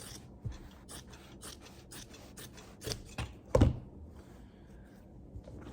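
Scissors snip down the middle of a fabric pocket in a quick run of crisp, close cuts, each a short sharp crunch, with one heavier snip near the end and quiet gaps between.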